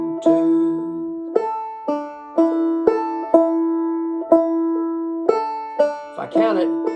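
Banjo picking a slow forward roll, repeated plucked notes ringing with sharp attacks in an even rhythm, close and clear, with a brief vocal-like sound near the end.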